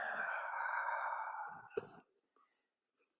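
A long, breathy exhale through an open mouth during a power yoga session, loud and close, trailing off into softer breath noises and faint clicks before falling quiet.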